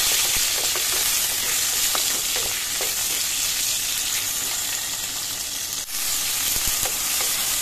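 Nigella seeds and a dried red chili fry in hot oil, giving a loud, steady, close sizzle with light crackles and occasional stirring scrapes throughout.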